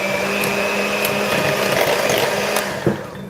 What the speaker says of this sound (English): So, with the handheld mixer, I have to be careful